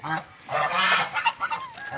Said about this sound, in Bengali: কতগুলো রাজহাঁস